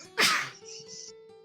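A single close, loud sneeze bursts out, with brief quiet tones lingering afterward.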